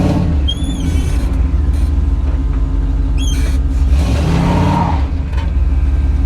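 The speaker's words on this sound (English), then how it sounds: "It'll do burnout." A car engine revs hard and loud up close during a burnout, with a continuous roaring rumble, rising throttle surges and sharp tire squeals near the start and middle.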